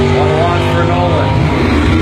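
Drag racing car at a junior drag strip event, including an 84 Monte Carlo, roaring loudly and steadily with engine noise under an announcer's voice.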